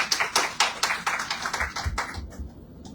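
Several people clap hands in steady, sharp rhythm during a Hare Krishna house program in Paschim Vihar, Delhi, about a dozen crisp, close claps in quick succession with no talk.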